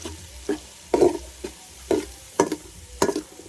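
Onion, garlic and ginger sauté in a pan, stirred in a steady rhythm of about seven scraping, sizzling strokes over a continuous low fry, heard close with no talking.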